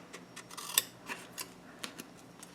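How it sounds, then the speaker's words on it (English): Scissors snipping through material in a steampunk craft project, a series of quiet, evenly spaced crisp cuts with one sharper snip early on, close and alone without talk. "Cut here and cut in from the side."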